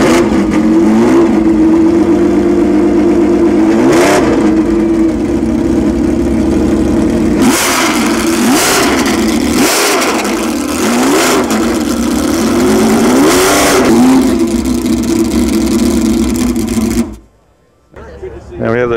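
A classic car's engine at the 2008 Pebble Beach Concours runs loud and close, rising and falling through repeated revs with a wavering tone, then cuts out briefly near the end before returning.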